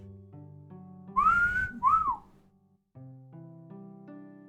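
A person whistles into a microphone, two rising-and-falling whistled notes standing out clearly over a steady background of sustained electronic tones, loud and close, with no talk.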